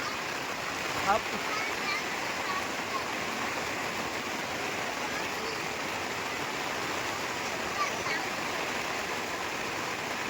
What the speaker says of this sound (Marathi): अशा प्रकारचा बाहेर पाऊस चालू आहे